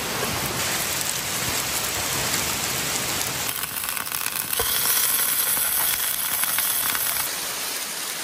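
Torrential rain from a wild storm pounding on a car roof and surroundings at a campsite, a dense, loud, unbroken hiss and patter lasting several seconds.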